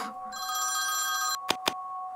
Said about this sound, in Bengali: আরে এত রাতে কে ফোন করছে?